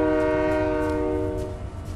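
A train horn in Fortnite sounds a single sustained, harmonically rich blast that holds loud and steady, then fades slightly over a low rumble, with no voices.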